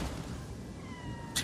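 A sunekosuri yokai, a small catlike creature in the game Nioh 2, gives a faint, brief meow over steady in-game background noise.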